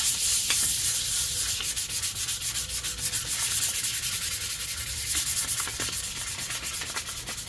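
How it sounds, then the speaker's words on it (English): Surface rust on a 1991 Honda CRX trunk jamb is hand-sanded with 500 grit sandpaper. Close, steady scratchy rubbing strokes run continuously in a quick back-and-forth rhythm, with no talking. "500 grit, and let's sand this down."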